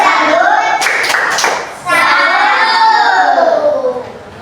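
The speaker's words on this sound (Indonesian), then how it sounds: "kita tepuk salut dulu buat kelompok 2" Schoolchildren in a classroom perform a rhythmic clapping chant, several sharp claps in a pattern followed by loud sung and shouted voices in unison, close and bright.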